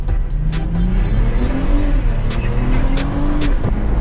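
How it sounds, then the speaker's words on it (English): A BMW 340i turbocharged engine accelerating hard, its loud tone climbing in rising sweeps through gear changes, heard from inside the car with faint voices underneath. "you can hear the turbo changing"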